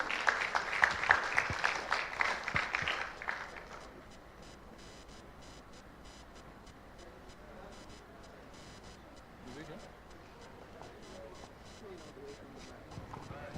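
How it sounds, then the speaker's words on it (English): Audience applause welcomes a speaker coming up for a book unveiling at a conference, dense clapping for the first few seconds, then fading to sparse scattered claps over quiet room noise. "please, let's keep clapping till Ashiri gets here"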